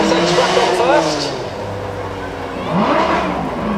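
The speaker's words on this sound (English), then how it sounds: "The flag drops there, we're bringing the NSX back on first." Honda NSX supercar revving at a sound-off during a supercar weekend at Beaulieu, engine notes rising and falling in two swells, loud and close, with a commentator talking over it.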